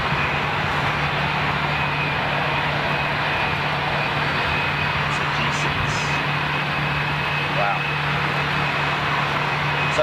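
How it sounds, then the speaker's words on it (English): A Gulfstream business jet on a Qatar executive flight drones steadily with a constant engine hum and whine, holding an even, loud level throughout as if passing nearby. "good looking aircraft. That is Gulfstream, yeah?"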